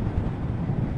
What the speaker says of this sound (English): you might be able to hear it on the microphone, but it's really windy today